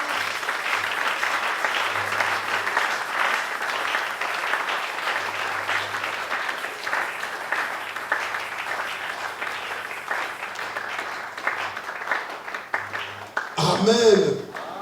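A church congregation at a Sunday service applauds, a steady wash of clapping that runs for many seconds before fading, with voices calling out over it near the end.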